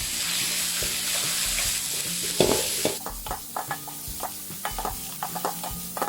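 Shrimp dropped into a pan of nearly cooked pork over high heat, with a steady loud sizzle that settles into stirring clinks and sharp scraping taps as the stir-fry is tossed.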